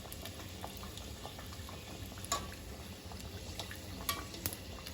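Bokit dough frying in oil over medium heat while being basted, a soft continuous bubbling sizzle with occasional faint spoon clinks, quiet and close.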